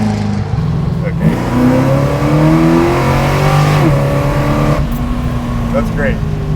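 A 650-horsepower big block Plymouth Road Runner muscle car engine revs loudly and close, its rumbling note climbing and falling through several throttle blips, with voices talking over it.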